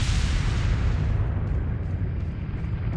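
A grenade explosion in Resident Evil 4 HD bursts loudly and rolls into a thick, sustained low rumble that slowly fades over a few seconds.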